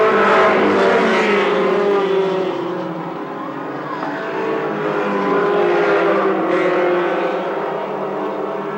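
Race cars battling on an oval short track near the finish, their engines making a loud, sustained roar that swells and fades slightly as the pack comes out of the final turn.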